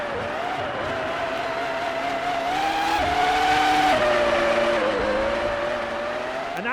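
Formula One cars in pit lane from the F1 2003 video game at the Austrian Grand Prix, loud droning engines with tonal whine shifting pitch, steady and close throughout.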